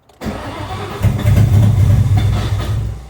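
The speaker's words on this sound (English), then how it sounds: "Crank. Burn that starter up." Ford Mustang SN95 starter cranking the engine, a loud close rhythmic churning that begins abruptly and pulses evenly for a few seconds, rising slightly in strength.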